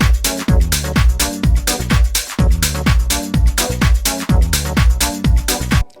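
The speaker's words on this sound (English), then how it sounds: "So here I have a 20 bar loop and it sounds like this." A 20-bar music production loop plays loud and alone, with punchy kick-driven beats repeating in a steady, tight rhythm.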